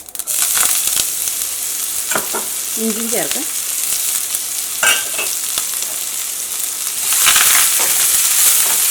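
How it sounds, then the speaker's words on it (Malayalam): Curry leaves, green chillies, onion and ginger sizzle and crackle in hot oil close by, with a few stirring scrapes and a brief clatter, the hiss swelling louder near the end. "ഇതിലേക്ക് കറിവേപ്പിലയും പച്ചമുളകും സവോളയും ഇഞ്ചിയും ചേർക്കാം"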